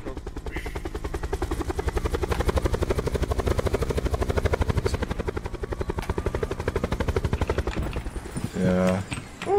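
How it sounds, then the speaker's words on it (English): A military helicopter in the Call of Duty: Black Ops 4 Blackout game, its rotor thumping in a fast, loud, steady beat for nine seconds as a player boards, with a gunshot-like crack and a distorted burst at the end. "Get to the chopper!"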